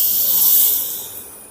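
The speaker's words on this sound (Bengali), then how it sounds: "প্রথমে আমি এই দিকে কড়াতে আপাতত" Milk poured into a hot kadai for cooking semolina, a loud close sizzling hiss that swells and then slowly fades over a second and a half.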